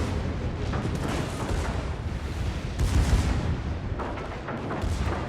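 Heavy naval gunfire from the battleship Iowa in a naval warship video game, dense rumbling booms and blasts rolling together at moderate loudness, with a sharper burst near the middle.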